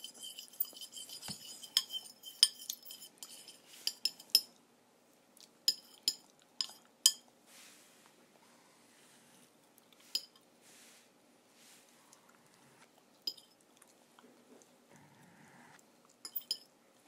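A fork mixing acrylic paint, with light clinks and scrapes against a container, clustered early and then scattered and sparse, close but quiet in a still room.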